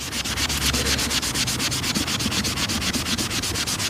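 Cleaning product rubbed by hand onto caravan plastic trim, a continuous close, loud scrubbing with quick regular strokes, no voices.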